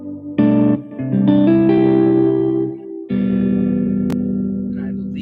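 Guitar chords ring out through an HX Stomp effects unit set with echo and reverb, sustained notes blooming and decaying in a wet wash, a pause and then another strummed chord.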